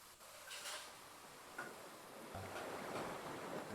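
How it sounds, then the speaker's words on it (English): Faint water ambience in Dark Souls Remastered, a soft, quiet wash like waves or flowing water, with a few light ticks and no voices. "I just got freaked out by the sound of water."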